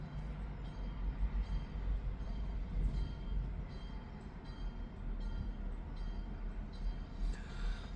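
Freight train passing near a wye close to a road crossing, a steady low rumble of rolling railcars with faint rhythmic clatter throughout.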